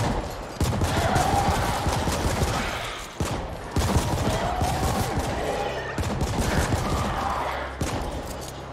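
Gunfire in the sci-fi shooter The Ascent, dense bursts of rapid shots and impacts running nearly continuously with brief breaks, loud and close.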